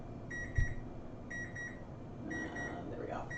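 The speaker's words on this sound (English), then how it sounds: "There goes the timer." Kitchen timer beeping in a home during a live knitting and yarn-dyeing session: three bursts of paired high electronic beeps, evenly spaced, clear but moderate, over low room noise with a brief thump.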